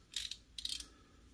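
A Klein Tools ratcheting wrench with a 90-tooth drive clicks through two quick bursts of rapid, crisp ratchet ticks, heard close and alone against a quiet background.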